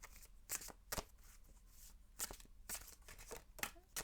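Oracle cards being shuffled and drawn, a run of crisp riffling flicks and soft slaps in bursts of varying length, close and fairly quiet with no talking.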